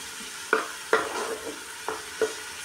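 Seasoning sautés in a pan before crab is cooked, a steady close sizzle broken by four or five sharp scraping strokes of a utensil against the pan, with no voices.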